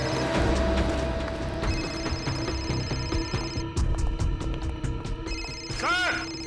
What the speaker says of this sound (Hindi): सालुंके साहब का फोन तो यहीं पे बज रहा था ना?